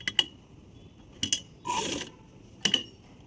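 A sewing machine stitching a baby's umbrella dress. It makes three short mechanical bursts of clicking and whirring, with a brief rasping run between them, near and with no talk.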